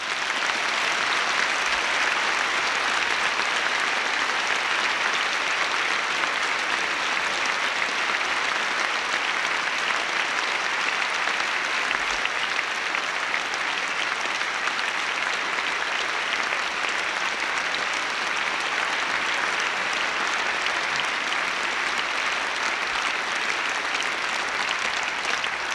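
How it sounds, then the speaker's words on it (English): Sustained applause from a large audience at a Christian gathering, Spring Harvest 1995, steady and dense clapping filling the hall without a break and with no voices over it. "as we applaud all these people"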